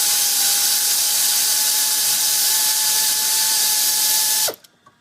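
An air tool loosens nuts on the intake manifold of a 2006 Dodge Caravan with a 3.3L engine, a loud steady pneumatic whir and hiss that stops abruptly near the end, leaving a few faint clicks.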